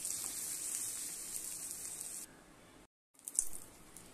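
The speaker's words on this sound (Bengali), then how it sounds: "এখানে তেজপাতা আর শুকনো লঙ্কা ফোড়ন দিয়েছি" Bay leaf and dried red chilli sizzling in hot oil after prawns were fried, a bright hissing spatter that drops away, cuts out briefly, then flares again, no talking.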